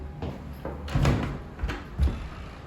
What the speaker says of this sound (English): This is the front door.